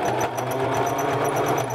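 A sewing machine runs steadily with a double needle, giving a fast, even mechanical whir and rapid rhythmic ticking of stitches, close and continuous throughout.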